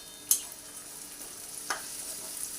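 Tomatoes with salt are stirred in a pan over a faint, soft sizzle, with two light spoon clicks against the metal spaced about a second apart.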